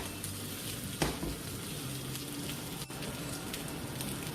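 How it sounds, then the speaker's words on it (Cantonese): Garlic cloves fry alongside pieces of pork belly in a hot pan, a dense steady sizzle with a brief sharp clatter near the start, heard close with no talking. "俾兩粒蒜頭落去打一爆，等佢香啲"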